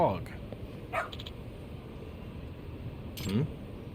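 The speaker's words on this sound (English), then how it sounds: "There's a dog." A dog barks in the video game Lost Judgment, giving a couple of short, mid-distance barks over a busy, noisy game background.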